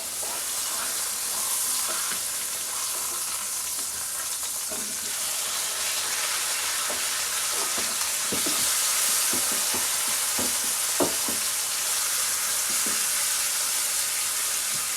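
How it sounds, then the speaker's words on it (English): Pork chops fry in a pan with a steady, close sizzle and a constant broad hiss, broken by scattered pops and light scraping as they cook. "we're going to go back and check on the pork chops"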